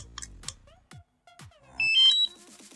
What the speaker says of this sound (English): We heard the beep.